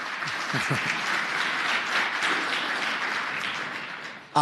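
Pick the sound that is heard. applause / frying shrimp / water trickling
applause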